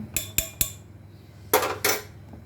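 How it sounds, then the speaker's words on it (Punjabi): A metal spoon clinking against a pot while custard for a homemade bread custard pudding is stirred, three quick sharp taps followed by a pause and two heavier scraping knocks. "ਹੁਣ ਆਪਾਂ ਚਮਚੇ ਨਾਲ ਦੇ ਵਿੱਚ ਚਲਾਈ ਜਾਵਾਂਗੇ"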